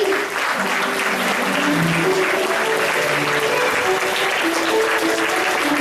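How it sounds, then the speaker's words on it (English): Sustained applause from a large crowd at a speech, steady and loud throughout, with continuous clapping filling the room. "Shall all stand please and give it a big round of applause to great Dr. Jagdish Gandhi."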